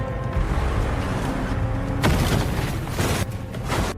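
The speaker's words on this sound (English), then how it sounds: "is immediately caught in a hail of gunfire as armed militants exchange fire with government forces in the area" A movie firefight between armed militants and government forces, with dense bursts of gunfire and heavy booming explosions overlapping continuously, loud and chaotic, with a sharp blast about halfway through.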